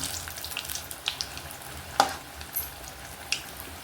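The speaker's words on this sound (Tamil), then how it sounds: "இந்த எண்ணெயோடைய சலசலப்பு அடங்கிடுச்சுனாக்கா நம்ம இதை அப்படியே ஒன்று ஒன்றா திருப்பி விட்டுக்கலாம்" Chilli bajji frying in hot oil give off a soft, steady crackle and bubble with a few sharper pops scattered through, quiet and close with no talking.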